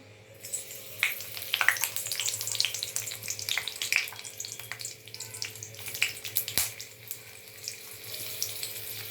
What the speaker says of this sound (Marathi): पहिला कढीपत्ता घालून घेऊया